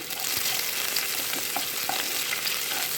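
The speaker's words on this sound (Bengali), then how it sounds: "কাজু কিশমিশটা একটু ভেজে নেবো দেখুন একটু লাল করে ভাজতে হবে কাজু কিশমিশটা" Cashews, raisins and ginger frying in hot oil for Bengali basanti pulao: close, steady sizzle with light stirring and faint scrapes from the spoon.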